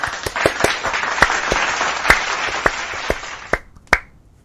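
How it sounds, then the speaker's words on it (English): A streamer claps hands loudly up close, a quick uneven run of sharp, dense claps that slows toward the end into a few spaced, ringing claps before stopping. "I shouldn't be clapping so loud"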